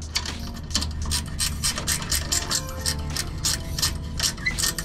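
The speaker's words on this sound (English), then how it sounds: "we're gonna be loosening these with a 14 millimeter socket or wrench or whatever the hell" Ratcheting wrench with a 14 mm socket loosening suspension bolts on a Lexus GX470: rapid, steady clicking and rasping strokes, close up and continuous for several seconds.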